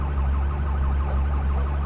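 A police car siren wails steadily in a Brazilian video game, a continuous electronic tone over a low engine rumble, sounding alone without talk.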